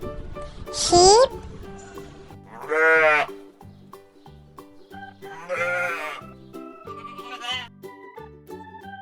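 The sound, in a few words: sheep bleating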